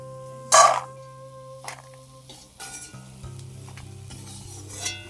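Peanuts frying in oil in a pan while cooking sabu polao: a sharp metallic clink of a utensil against the pan, then soft sizzling and stirring, fairly close, with a faint tonal hum underneath.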